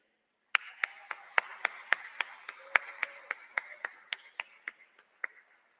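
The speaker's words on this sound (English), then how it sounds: "give a big round of applause for yourself" A small graduation ceremony audience claps sparsely and unevenly, about twenty distinct sharp claps spread over several seconds, fairly faint and thinning out toward the end.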